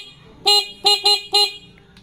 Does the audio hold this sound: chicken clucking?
no